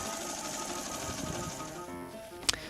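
A Yamaha 5 outboard motor runs with a steady droning hum that drops away near the end, followed by a brief sharp clatter, heard faintly and without talk.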